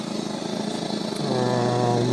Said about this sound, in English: That's the sound of the TV not picking up any channels